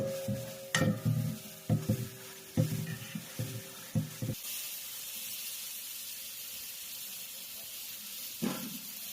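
Chilli chicken fries in a pan over a village cooking fire. A spatula scrapes and knocks in sharp, rhythmic strokes for a few seconds, then a continuous hiss of frying fills the rest, with one more stir near the end.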